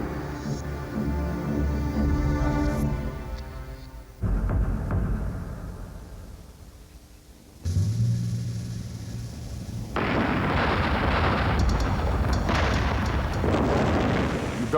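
A building blows apart in a staged film explosion, with gasoline-filled mortars behind every window: a sequence of heavy, deep booms and roaring blasts, each rumbling out before the next, ending in a sustained fiery roar.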